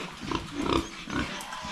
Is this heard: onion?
no